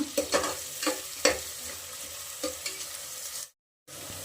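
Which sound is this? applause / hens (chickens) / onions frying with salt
onions frying with salt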